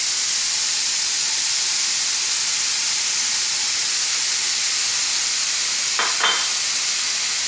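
Steak and onion fry in a non-stick pan with a loud, steady hissing sizzle throughout, close by, and a brief stir or scrape near the end, with no talking.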